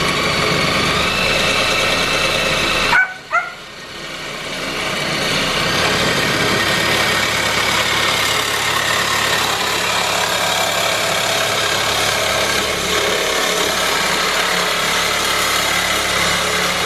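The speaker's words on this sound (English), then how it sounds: "grab the sawzall" A reciprocating saw cuts during a driveway turbo K24 build with intercooler piping and exhaust clips, giving a loud, steady, continuous buzzing drone that stops briefly near the start and then runs on unbroken.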